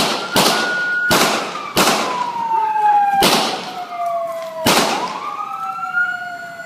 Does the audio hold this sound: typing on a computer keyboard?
no